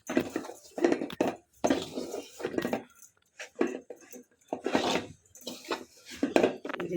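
A spoon scrapes and stirs milk and sugar in a pan while making sandesh sweets, producing irregular bursts of rasping and clinking separated by brief quiet gaps, close and fairly soft.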